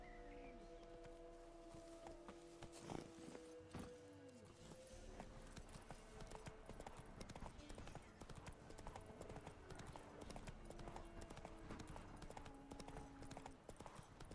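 Geralt's horse Roach gallops in The Witcher 3, a steady, drumming clip-clop of hooves that runs throughout at a fast rhythmic pace over a soft background wash of game ambience.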